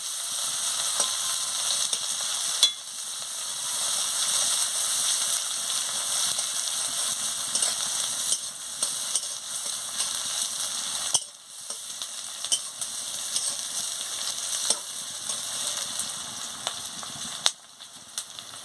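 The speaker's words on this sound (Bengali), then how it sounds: "কাঁচা লঙ্কা দিয়ে দিচ্ছি দিয়ে পেঁয়াজটাকে ভালো করে ভেজে নিচ্ছি" Chopped onion and green chilies frying in oil in a pan, a loud, close, continuous sizzle with occasional clicks and scrapes of stirring, no voices.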